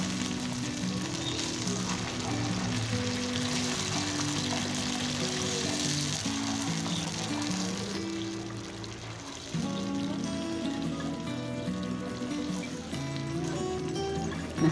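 Water poured into a pan of sizzling minced beef meatball mixture, giving a loud, steady frying hiss with a bubbling surge throughout, no voices present.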